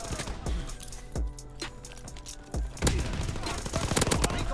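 LMG machine gun fire in the Call of Duty WW2 video game: a series of sharp gunshots in irregular bursts, some heavier and closer, building into denser rapid fire toward the end amid game noise.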